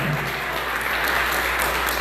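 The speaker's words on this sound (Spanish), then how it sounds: "¿Cuánto dan un fuerte aplauso al Señor?" A church congregation bursts into loud, continuous applause for the Lord, a dense wash of clapping that stays steady for the whole moment.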